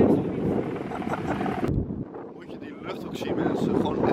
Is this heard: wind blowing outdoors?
yes